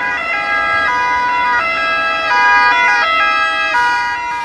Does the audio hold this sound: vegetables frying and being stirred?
no